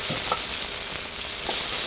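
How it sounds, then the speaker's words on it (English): Steady, close sizzle of chicken and vegetables stir-frying in a pan at high heat, with a few soft scraping stirs, brief and continuous. "Start that sizzling."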